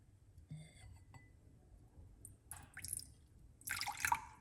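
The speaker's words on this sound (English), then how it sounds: "And I'm going to pour it." Apple cider vinegar pours briefly into a glass in a couple of short bursts, with faint clinks and quiet trickling.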